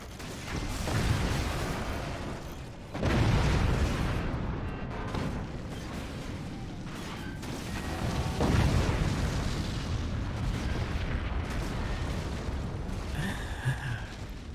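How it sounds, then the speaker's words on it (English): Howitzer shells from the strategy game Forts slam down in a heavy barrage of deep booms and crashing explosions, loud and continuous, with a big blast near three seconds and another around eight and a half. "This is one of the satisfying moments of howitzers."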